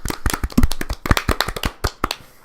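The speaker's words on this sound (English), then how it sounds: "Let's give him a round of applause, but really quietly" Sparse, soft hand claps patter irregularly for a couple of seconds, a small quiet round of applause with no talking.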